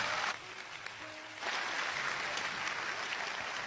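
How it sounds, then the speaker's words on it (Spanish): Church congregation applauding during a Spanish-language sermon, a broad wash of clapping that dips briefly then swells again and holds steady, with faint voices mixed in. "Dale el aplauso a Dios."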